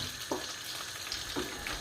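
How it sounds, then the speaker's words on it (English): Oil or butter heating in a pan before cooking pancakes, a soft continuous sizzle with a couple of light scraping touches, fairly quiet. "make sure you kind of just boil some of it off in the pan"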